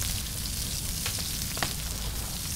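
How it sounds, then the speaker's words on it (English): Fish cooking over a campfire in the survival game Stranded Deep gives a steady, dense sizzle and crackle, with a few faint pops standing out over the continuous frying hiss. "let me see if I can cook a fish"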